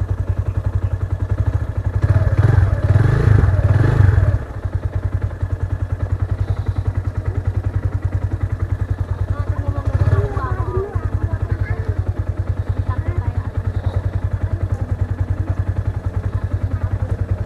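A motorcycle on a mountain road near a checkpoint on San Isidro Road in Benguet, with a steady low engine rumble throughout that swells into a loud, close surge for a couple of seconds early on, then settles back.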